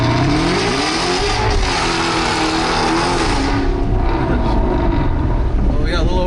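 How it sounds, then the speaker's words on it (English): A Ford Mustang GT500 accelerates hard from a standstill toward 60 mph, its engine roaring loudly and rising through the revs with heavy wind noise, heard from inside the car. "let's see what a 0 to 60 would be in this car"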